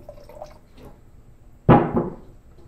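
Reducer liquid poured into a cup of activated paint mix for translucent painting on Plexiglas, heard as a sudden close splashing gush of pouring liquid that trails off over about a second after quiet handling noise.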